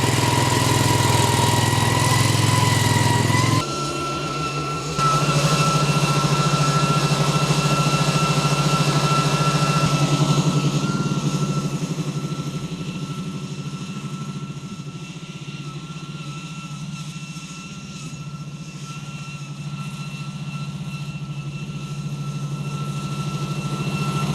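An AS Motor OVIS remote-controlled tracked flail mower runs while mowing a commercial embankment, a loud, steady engine drone that drops in pitch after a few seconds and then fades gradually, with no talking.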